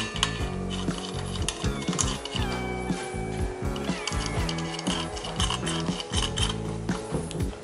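Metal washer and bolt being fitted onto the blade of a DeWalt circular saw, with continuous clinking, scraping and rubbing of small metal parts close by.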